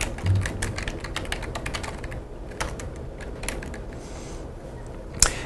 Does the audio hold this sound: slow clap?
no